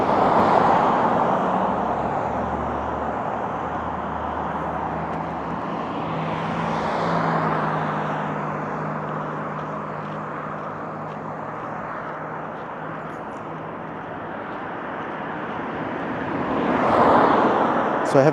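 Traffic on busy Lakeshore Drive rolls by as a loud, continuous roadway roar, with vehicles swelling past near the start, middle and end.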